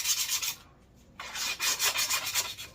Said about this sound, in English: So let me get this cleaned up, sanded up.